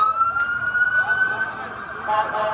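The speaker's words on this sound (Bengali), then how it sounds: "এভাবেই একের পর এক অ্যাম্বুলেন্স এসে থামছিল খান ইউনিসের আল নাসের হাসপাতালে" Ambulance sirens wail as the vehicles arrive at Al Nasser Hospital in Khan Younis. One loud, steady, close siren tone carries on throughout with no speech.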